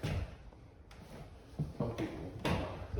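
Cabinet doors on a worn kitchen island in a 1994 Fleetwood Coronado mobile home give a few dull knocks and light thuds, spaced irregularly over a soft room hiss with no talking.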